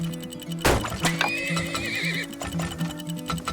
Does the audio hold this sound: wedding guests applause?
no